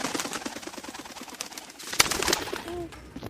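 Pigeons coo in a backyard loft, with soft repeated coos and rustling under a steady bird-filled background, followed by a sharper flutter or clatter near the end.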